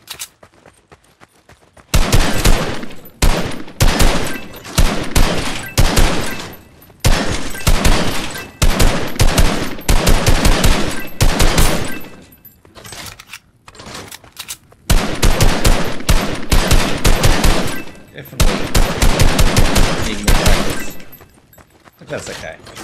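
Rapid automatic gunfire and loud shots blast in the video game Fortnite, coming in dense, repeated bursts broken by brief gaps.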